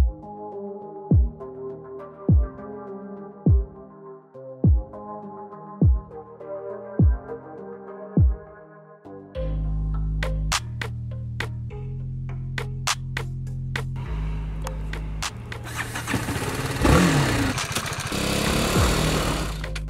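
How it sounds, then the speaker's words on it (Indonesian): A BMW G310 GS motorcycle engine first gives evenly spaced low thumps, then hums and revs steadily while riding, the tone stepping through gear-like shifts and growing rougher toward the end. "kalian ikut aja sama gue ngerasain sensasi mesin dari BMW G310 GS ini"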